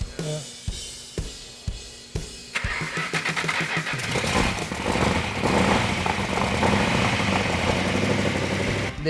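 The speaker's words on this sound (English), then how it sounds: "The 446 back engine fired right up" An engine cranks in several short bursts, then catches and roars into a steady, loud running idle.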